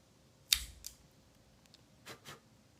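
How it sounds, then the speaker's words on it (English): A Cassetti multi-cutter snaps through a cigar cap to make a V-cut, a crisp close click followed by a few quieter clicks and a faint rustle, with no talking. "I'm using my Cassetti multi-cutter. I'm going to use the V-cut."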